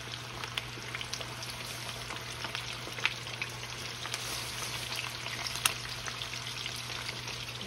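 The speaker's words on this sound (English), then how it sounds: "Like you frying chicken" Breaded buffalo chicken fries in a wok with a steady, close hiss of hot oil, broken by small pops and crackles throughout.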